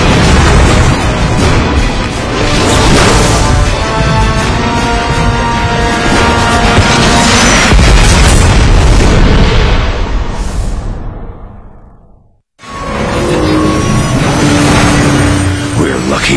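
In Transformers: War for Cybertron, a warship rams into a station and explodes in a long, loud roar of crashing and booming that fades to near silence, followed by rumbling debris and a tonal hum.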